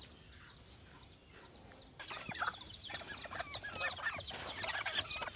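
Crossbred chickens, an F1 father crossed with bantam stock, cluck and chatter close by, with sparse calls at first, then a busier stretch of overlapping clucks and chirps.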